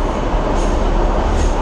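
A London Underground train runs with a loud, steady roar and rattle, continuous throughout with a faint squeal of wheels above it.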